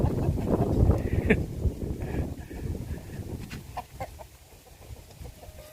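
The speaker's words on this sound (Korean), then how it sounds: "뒷마당에 오면 어머니가 닭을 키우십니다." Chickens kept in a rural Vietnamese backyard, soft clucks and brief calls over steady wind and low rumbling background, nearby and moderately quiet.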